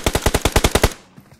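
Automatic gunfire in PUBG Mobile, likely a Vector SMG: a rapid burst of about ten evenly spaced loud shots over roughly a second, then a short faint tail with a soft thump.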